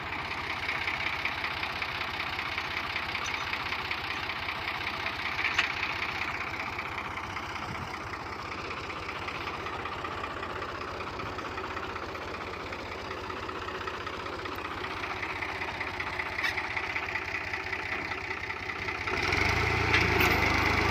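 A Fiat 480 tractor engine runs steadily on firm farmland with a plough and leveller, a close, rhythmic mid-pitched diesel chug with a clattering knock that stays even throughout and grows slightly louder at the end.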